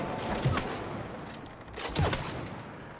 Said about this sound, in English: Shoot that target.